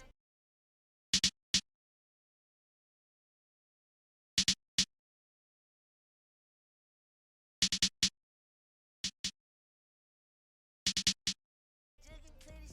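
Snare drum sample in an FL Studio plugg-style beat, struck alone in short doubled hits, five pairs spaced irregularly across silence, crisp and bright, with a different sound entering at the very end.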